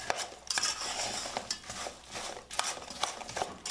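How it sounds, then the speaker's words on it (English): A spoon stirs and scrapes apple pie filling with cinnamon in a bowl, giving an irregular series of clicks and scrapes against the sides, close and fairly loud, with no talking. "Now get all that mixed up."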